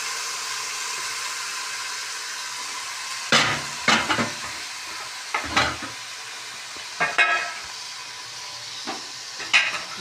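Garam masala spices for yakhni pulao fry in a pot under a low, steady sizzle, broken by repeated scraping and clanking strokes of a spoon stirring at intervals.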